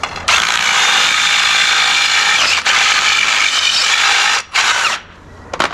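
A drill with a unibit step bit reams the end of a cut VW Baja Bug shift rod tube, a loud high grinding whine that runs steadily with brief dips, then cuts off near the end.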